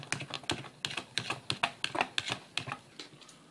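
A utensil clicks and taps quickly against a bowl while a yellow mixture is stirred, a close series of sharp, irregular knocks with no talking.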